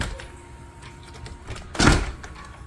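A car door closes with one solid thunk after a hinge pin adjustment, following quiet handling noise in a garage.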